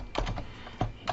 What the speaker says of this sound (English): And in here, I'm going to type in my name.